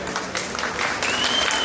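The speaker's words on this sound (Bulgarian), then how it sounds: "Страхотно, аплодисменти." Brief burst of audience applause at the Mrs. Varna 2025 pageant, a quick patter of clapping that swells slightly over under two seconds, with some faint background noise.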